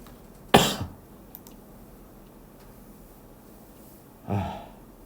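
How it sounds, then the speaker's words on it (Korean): A single sharp cough bursts out near the start, followed by a second, softer cough or throat-clearing about four seconds later, in a quiet indoor room during a math lecture. "아, 나 진짜 기침."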